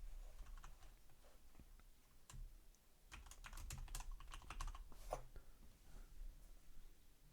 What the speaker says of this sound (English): So you can type in your city, like I'll type in a city,